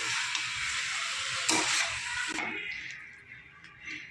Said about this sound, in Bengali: এই মশলার সাথে বেশ কিছুক্ষণ একটু নাড়িয়ে নিতে হবে